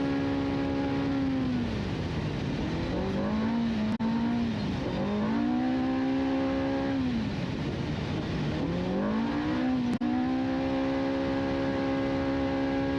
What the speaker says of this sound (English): These Pro Rs just sound awesome, right?